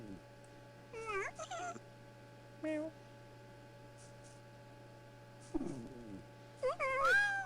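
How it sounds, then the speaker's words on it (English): Several cats meow in short, separate calls, some rising and wavering, over a steady low hum. Near the end there is a louder, longer run of meows. "Let's just have one final check on our kitties."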